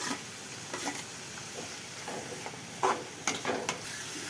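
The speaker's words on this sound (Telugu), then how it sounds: "ఇప్పుడు 2 పచ్చిమిరకాయలు తీసుకున్నాండి. పచ్చిమిరకాయలు కూడా వేసుకుంటున్నా" Green chillies dropped into onions frying in a pan give a soft, steady sizzle with occasional stirring scrapes and a few brief louder crackles near the end, fairly quiet overall.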